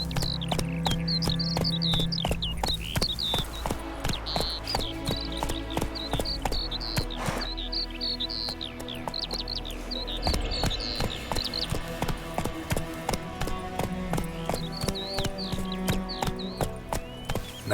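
Roach, Geralt's horse in The Witcher 3: Wild Hunt, galloping steadily, with rapid rhythmic hoofbeats close by and continuing throughout over faint background ambience.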